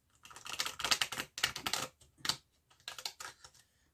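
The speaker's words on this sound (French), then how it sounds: "je vais mélanger le tarot des jeunes sorcières" Cards of a young witches' tarot deck being shuffled by hand, rapid riffling bursts in four close, loud clusters separated by brief pauses, with no talk.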